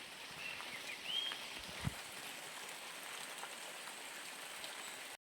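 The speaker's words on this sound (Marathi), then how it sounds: "पाऊस बाहेर टिप टिप टिप टिप होऊ लागलो" Light morning rain falling outdoors in a Konkan village, a faint, steady hiss of drops with a brief soft knock partway through, heard alone and at a distance.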